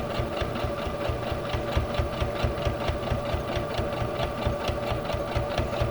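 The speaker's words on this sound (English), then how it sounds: "I'm using a straight stitch while I'm doing that half an inch seam allowance" A sewing machine runs a straight-stitch seam on a rag quilt mug rug, its needle hammering in a fast, even mechanical rhythm with a steady motor hum, close and continuous throughout.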